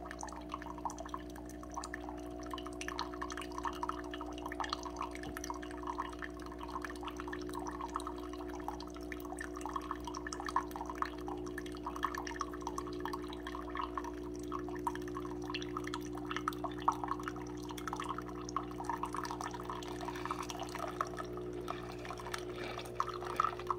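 An Aldi Ambiano CM-202 single-serve K-Cup coffee maker brewing: a steady low pump hum with continuous trickling and dripping liquid over it, moderately quiet and close.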